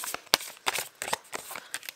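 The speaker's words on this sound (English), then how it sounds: "We're going to shuffle through those because I don't think we need all of these." A deck of oracle cards is shuffled by hand, giving a run of quick papery flicks and soft slaps in an uneven rhythm, close and alone without talking.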